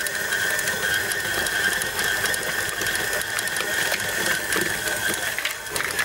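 Stand mixer kneading brioche dough for a Normandy-style brioche, a steady loud mechanical whir with gear rattle and clicking that runs continuously, alone without talk.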